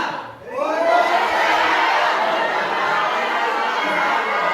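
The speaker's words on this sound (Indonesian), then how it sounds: "Teriak ya, teriak." A group of people, mostly women, shouting together on a counted cue: a sudden loud collective yell that rises in and holds as sustained crowd shouting.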